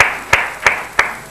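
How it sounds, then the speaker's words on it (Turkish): Slow, deliberate claps, four sharp hits spaced evenly apart over a quiet background. "Hala alkışlar gelsin hele."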